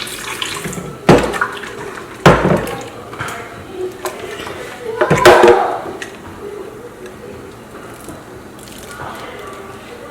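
Water splashes and trickles in several short bursts into bean batter for akara, with sharp spattering moments between quieter stretches, close by.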